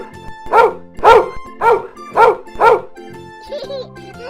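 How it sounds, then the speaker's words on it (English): A dog barks five times in an even, close rhythm, followed by a short whining yip as it trails off. "Dog."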